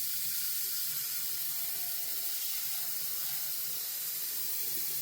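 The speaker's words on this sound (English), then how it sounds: "you want to make sure you add water, cold water, so it can cool off" Cold water runs from a tap into a hot hard-candy pot to cool it, a steady, even hiss of flowing water that holds unbroken throughout.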